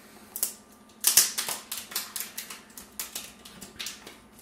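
Protective plastic film being pulled off an Amazon Echo Show, heard as a string of crisp crackling, ticking bursts in a quiet room, growing denser after the first second, with no talking.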